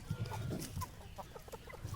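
Parrot-beak hens cluck softly in a farm setting, with short, low calls scattered through a background of other fowl noise at moderate distance.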